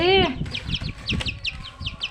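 A loud chicken squawk opens as small chickens are bathed, followed by a rapid series of thin, high-pitched peeping cries repeating over a noisy background.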